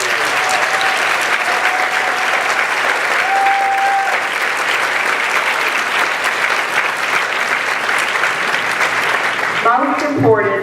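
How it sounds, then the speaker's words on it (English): Audience applause fills a convocation hall for a newly introduced superintendent, a steady dense clapping that holds at one level throughout and tapers only at the very end. "Let's give her a round of applause."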